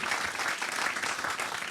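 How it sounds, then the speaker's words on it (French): Steady, dense applause from an audience fills the whole moment, a continuous wash of many hands clapping at even loudness with no break. "Vous pouvez l'applaudir parce qu'il attend les applaudissements pour le macaron d'Amiens."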